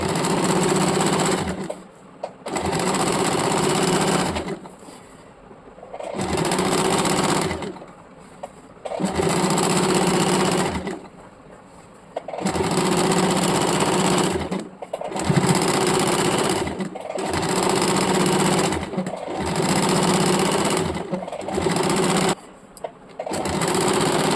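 Sewing machine stitching around a petticoat, running in loud steady bursts of several seconds each, separated by brief pauses, with no voices over it.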